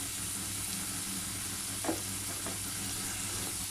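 Garlic and grated ginger fry gently in a pan, making a quiet, even sizzling hiss with a single brief stir partway through and no voices.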